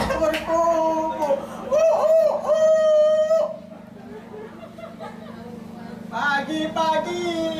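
A performer at a hikayat storytelling festival in Aceh imitates roosters crowing with his voice, loud drawn-out crowing calls, then a pause and a brief clucking phrase.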